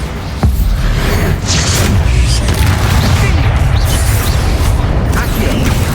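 A Bombarda blasting spell detonates in Hogwarts Legacy, a loud booming burst followed by a sustained rumbling roar of debris and battle noise that fills the whole stretch.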